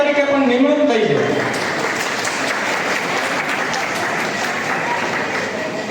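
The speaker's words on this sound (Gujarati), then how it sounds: "આભાર સંભાળી લીધો છે આપણે તાળીઓથી" A large audience claps loudly and continuously, a dense wash of applause that holds steady after a brief voice at the start and fades only slightly toward the end.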